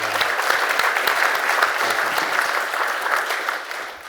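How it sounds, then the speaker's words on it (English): A room of people gives a round of applause at a college football gathering, dense steady clapping throughout that tapers slightly at the end, with a brief voice near the start. "Let's give Gary a round of applause"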